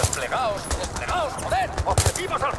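Rapid gunfire from the video game Battlefield 3 rattles in quick bursts and single sharp shots, with a voice talking over the shooting.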